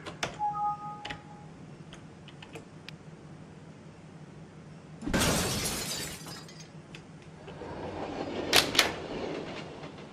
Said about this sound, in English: And breakable glass